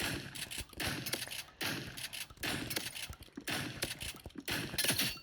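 Rapid gunfire from the video game Rivals 3, bursts of shots repeating in quick clusters with short gaps between volleys, loud and close throughout.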